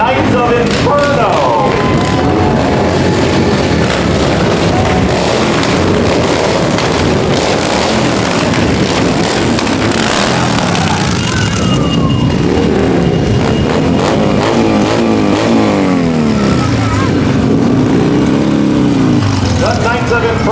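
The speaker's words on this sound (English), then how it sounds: "we let them rev their engines here so they don't do it in their driveways" Knights of Inferno motorcycle club bikes revving their engines on Spring Street during a St. Patrick's Day parade in Newton, loud sustained roaring and rising throttle blips from several machines, with crowd noise and voices mixed in.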